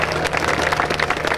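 A crowd at an outdoor military open house gives a short burst of steady, dense clapping for a helicopter aerobatic display, heard without talk.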